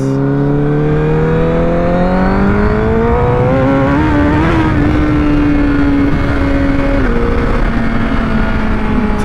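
Ridden through road traffic, a Honda CBR1000RR motorcycle runs loud and close. The engine note climbs steadily through the gears, then levels off under constant wind rush.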